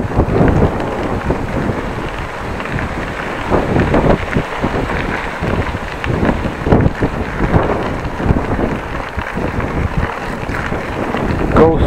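Strong wind buffeting the microphone while cycling along the Van Starkenborghkanaal in the Netherlands on a warm day, loud continuous rumbling gusts that swell and fade, with no clear speech.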